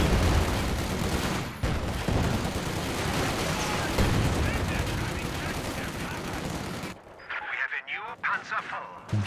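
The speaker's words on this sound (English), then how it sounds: "MG in the building here." Dense battle din from Company of Heroes 2, with machine gun fire and artillery blasts filling the first seven seconds, then cutting to a quieter stretch with scattered pops and bursts.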